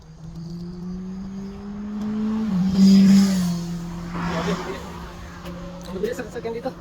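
Fast cars speed past on a road in South Korea. One vehicle's engine whine rises and drops in pitch as it passes close, with road rumble and voices talking throughout.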